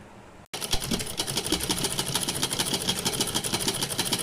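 A sewing machine runs steadily, stitching a half-inch seam around the skirt lining of a gown made from an old saree. The motor hum and rapid needle clatter start abruptly after a brief quiet moment and continue evenly and close up.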